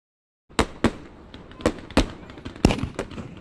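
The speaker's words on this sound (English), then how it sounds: "American Minutemen fire on British soldiers in Lexington and Concord, Massachusetts, in April of 1775" Musket gunfire as Minutemen shoot at British soldiers at Lexington and Concord in 1775: about seven sharp, loud cracks in an irregular scattered volley, each with a short echoing tail, and no voices.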